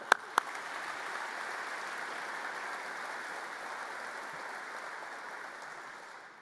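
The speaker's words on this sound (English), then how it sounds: "So let's give the Joint Chiefs and the combatant commanders a round of applause." A large audience at a national defense forum applauds the Joint Chiefs and combatant commanders, a sustained, even roar of clapping after a couple of sharp initial claps, fading slightly toward the end.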